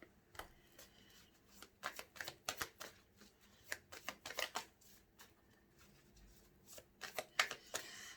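Tarot cards shuffled and drawn by hand on a table, a string of quiet, crisp riffling and slapping bursts at an uneven rhythm, close and faint with no talking.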